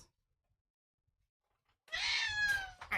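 A house cat lets out a single drawn-out meow near the end, clear and fairly close, with its pitch sliding downward and a short sound following, after nearly two seconds of quiet.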